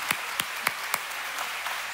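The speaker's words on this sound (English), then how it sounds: "Can you clap your hands and give God a praise?" Church congregation clapping their hands in praise during a sermon, a steady crowd applause with a few louder, evenly spaced claps early that fade into softer, even clapping.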